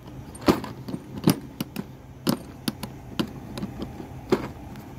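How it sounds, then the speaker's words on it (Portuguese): Metal keys jingle and clink in irregular bursts as they are handled near a truck, several sharp close jangles spread across a quiet background with no talking. "Vamos levar essas duas chaves."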